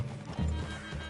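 Horse hooves clop in a brief, faint burst with a soft snort or whinny in Red Dead Redemption 2, as riders dismount near a wooded clearing.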